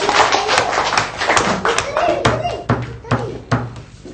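A group of primary school children claps hands in a classroom, quick scattered claps settling into a few louder slower claps, with voices heard alongside.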